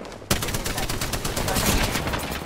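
Rapid gunfire from the video game Apex Legends bursts in abruptly and keeps up as a dense, loud clatter of shots for about two seconds.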